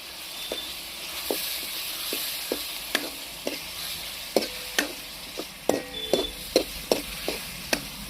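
Ground coconut, ginger and garlic masala roasts in a pan, giving a soft steady sizzle broken by a dozen or so sharp scraping clicks of a spoon stirring at an uneven rhythm, close and fairly quiet.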